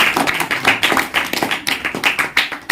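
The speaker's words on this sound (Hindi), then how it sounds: "आप सब एक बार अपने लिए जोरदार तालियां बजाएं" An audience at a Christmas Day celebration in Bilari claps loudly and steadily, with many hands beating in a dense, irregular rhythm that continues throughout.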